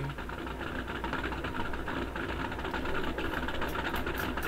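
A rough, awful-sounding car engine in a video game runs steadily at a loud, close level, a continuous rattling rumble with no breaks.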